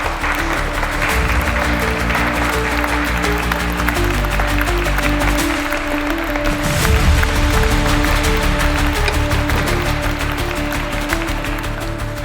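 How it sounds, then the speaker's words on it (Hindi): An audience claps steadily and loudly through the whole stretch, the noise rising slightly midway, while a low music bed plays underneath. "तालियां"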